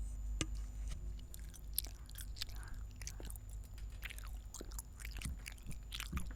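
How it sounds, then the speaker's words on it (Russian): Close-up chewing and crunching of food in the mouth, soft repeated bites over a low steady hum from a computer game in the background. "Не обращайте внимания на то, что я жую"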